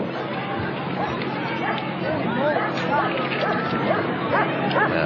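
Police K-9 dog from the La Palma Police Department barking repeatedly at a 1992 town parade, sharp woofs and yips scattered over a busy crowd, with people talking throughout.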